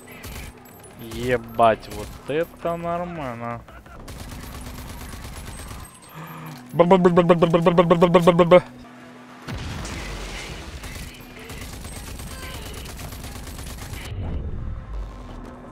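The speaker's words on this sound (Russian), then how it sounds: "Вот это звук стрельбы." Video game gunfire rattles in rapid automatic bursts and heavy booming shots, loud and punchy between quieter stretches, while someone talks over parts of it.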